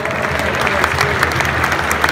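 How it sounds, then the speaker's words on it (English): A crowd applauds at an end-of-season awards event, honouring the Community Ambassador of the Season; dense, steady clapping fills the whole stretch, loud and close, with no talk over it. "round of applause to Community Ambassador of the Season"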